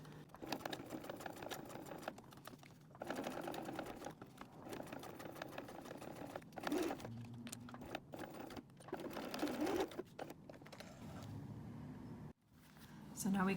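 A sewing machine stitches a cork wallet that has a snap on it, running in short bursts of rapid mechanical chatter with brief pauses. The stitching is fairly quiet and comes under occasional speech.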